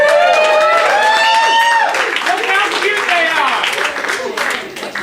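An audience at a talk on freshwater shrimp claps and cheers briefly, with voices and whoops mixed into scattered clapping at close to moderate distance.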